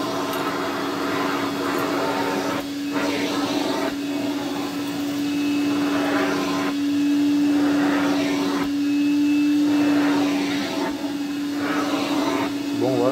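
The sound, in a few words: electric vacuum cleaner running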